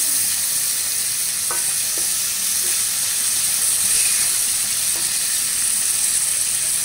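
Chicken pieces sizzling in a hot pan while cooking a homemade chicken gravy: a steady, bright hiss of frying with a few faint clicks and scrapes, and no talking.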